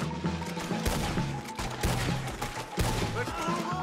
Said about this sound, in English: Let's get the repeater out.